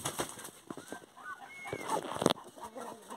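A Galinha Sertaneja Balão hen is let go and gives honking squawks, then a short, sharp burst of wing flapping close by, with light background rustle.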